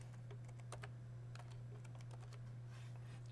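Someone types on a computer keyboard in a quick, irregular patter of light clicks, faint and close, with a steady low hum underneath.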